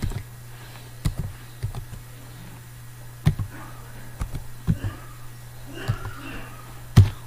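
Typing a user ID on a computer keyboard, with scattered key clicks and sharper taps in an irregular rhythm, close and fairly loud over a steady low hum.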